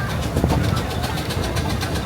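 A steam road locomotive running at the Shrewsbury Steam Rally 2024 gives a steady, rhythmic chuffing pulse with low mechanical rumble, while a commentator talks over it.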